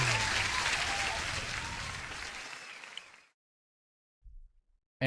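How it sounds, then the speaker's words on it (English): A burst of applause for a giveaway contributor, steady and moderately loud for about three seconds before cutting to silence, with a brief faint knock near the end. "I'm gonna give a huge applause to Reza as the contributor of today's giveaway"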